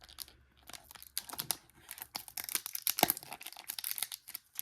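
A pack of trading cards is torn open in quick, irregular bursts of crinkly ripping and crackling foil, close and fairly faint, with brief quiet gaps between pulls.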